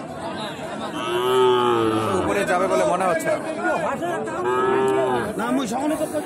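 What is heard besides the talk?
Gir heifer calves mooing at Ambari cattle market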